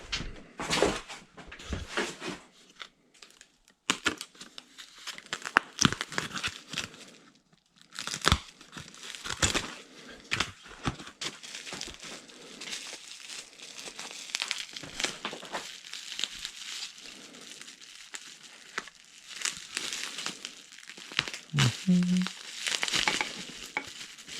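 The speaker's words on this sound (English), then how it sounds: "Nice little plastic bag wrapped around the Shimano." A plastic bag and foam packaging crinkle and rustle during the unboxing of a 2025 Moose Fat Bike 2, in irregular bursts of crackling handling noise with brief quiet gaps.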